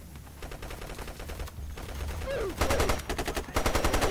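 Rapid bursts of automatic gunfire in the shooter game Insurgency, loud and close, with a steady rattling rhythm that grows denser toward the end as shots sweep a street.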